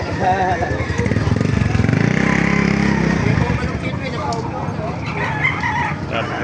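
A rooster crows loudly nearby at a chicken market in Baliuag, Bulacan, its long call rising over an idling motor and voices talking in the background.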